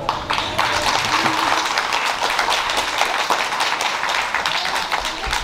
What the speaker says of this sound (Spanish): Démosles un fuerte aplauso.